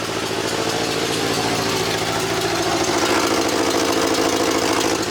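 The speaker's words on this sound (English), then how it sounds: "It sounds like it has maybe an exhaust leak." A Toyota MR2 engine idling with an exhaust leak, a steady, close, rapid ticking putter that runs evenly without a break.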